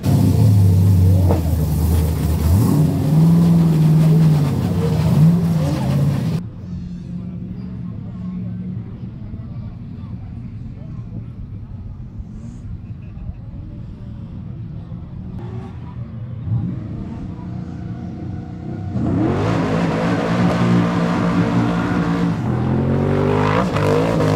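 A drift car on a run at the 2023 French drift championship round at Val-d'Argenton: loud roaring, revving engine at the start, a quieter rumbling stretch, then hard acceleration again at the end, with voices talking over it.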